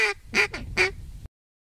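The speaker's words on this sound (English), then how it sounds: "The greeting call is essentially five quacks, with each quack a little shorter and quieter than the last." A duck call blown as a greeting call gives a close, loud run of raspy quacks, each one shorter than the one before, with nothing else heard around it.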